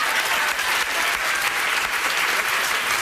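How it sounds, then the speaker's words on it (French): Studio audience at a French-language television show breaks into applause, continuous loud clapping throughout with no voices on top. "On l'applaudit, mesdames et messieurs."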